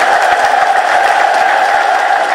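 A church congregation breaks into dense, loud applause mixed with shrill ululation in praise, a continuous close roar of clapping and high trilling voices.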